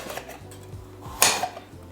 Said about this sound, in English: you just want to kind of scrape the seeds out like this